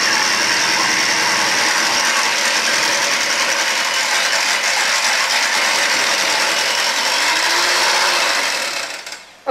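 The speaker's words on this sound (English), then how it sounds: "Now we just use our hand mixer here, and I'm just going to give this a little mix" Electric hand mixer whirring steadily as it beats batter in a home kitchen, a loud continuous buzzing drone lasting nearly ten seconds before cutting off at the end.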